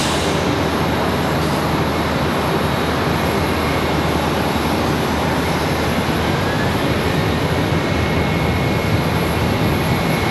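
An airliner departing at Charlotte Douglas airport fills the air with a loud, continuous broadband jet roar, unbroken and close, with no voices over it.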